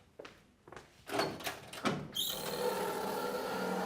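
A door is handled in a home: a few knocks and clunks, then a louder bang and rattle as it opens, followed by a steady room rush, nearby with no voices.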